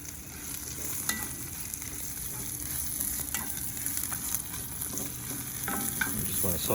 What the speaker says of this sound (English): I'm gonna saute some of the mushrooms that are gonna go on the pizza.